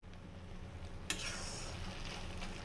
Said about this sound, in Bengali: চিংড়ি মাছ দিয়ে আবার একটু আমি এরকম নেড়ে চেড়ে